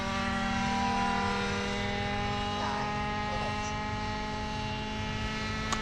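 A steady, high-pitched whining buzz of a small RC helicopter rotor motor hovers at a constant pitch, faint and even throughout, at an RC flying field.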